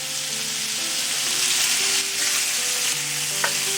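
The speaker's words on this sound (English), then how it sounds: "We'll cook the sausage for about 3 minutes." Chicken sausage seasoned with fennel seeds sizzles and fries in a pan, a loud, steady crackle with faint stirring clinks and no talking.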